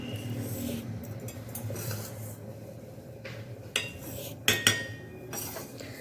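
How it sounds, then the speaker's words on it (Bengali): Fried mung dal tipped into a pot of boiling water, with scraping and rubbing of utensils and a few sharp metallic clinks against the pot near the end, over a low simmering bubble. "এবারে আমি ভেজে রাখা মুগ ডালটা এর মধ্যে দিয়ে দেবো"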